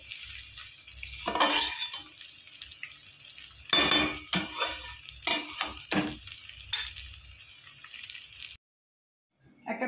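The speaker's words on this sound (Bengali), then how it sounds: "একটা প্লেটে আমি পাস্তাগুলো নামিয়ে নিয়েছি" Homemade pasta is scooped from a pan onto a plate, with a series of close metallic scrapes and clinks in irregular bursts, then brief silence near the end.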